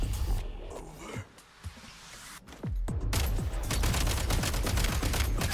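Gunfire in a video game during the Snezhnaya event, a quick volley of sharp shots after a brief lull, then sustained rapid firing that carries on loudly to the end.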